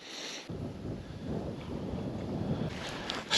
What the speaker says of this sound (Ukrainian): Такий вітер з'явився звідкись.